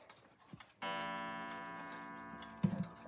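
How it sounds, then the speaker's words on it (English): A Centurion steeple clock ticks faintly and close by, joined partway through by a sustained ringing tone that slowly fades, with a soft knock near the end. "the Centurion steeple clock."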